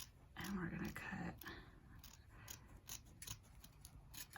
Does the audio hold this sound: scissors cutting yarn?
yes